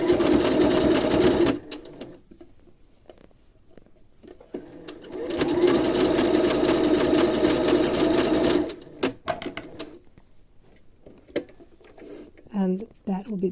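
Sewing machine stitching a gusset seam on a zero-waste kids sleeper, running in two sustained bursts separated by quieter pauses with fabric handling.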